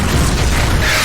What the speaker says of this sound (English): Due to the magnitude of the explosion, the bridge was now broken, leaving no path for them to escape.